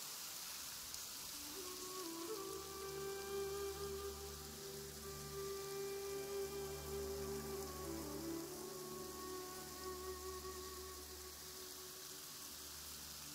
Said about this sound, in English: If this rain keeps up, my fur will be dripping wet.